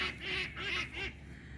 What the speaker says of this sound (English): So these are my new ducks.